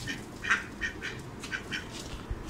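Pet ducks quacking in a yard where grain is scattered for pigeons and ducks, a series of short, fairly faint nasal quacks spaced through the clip with no talking.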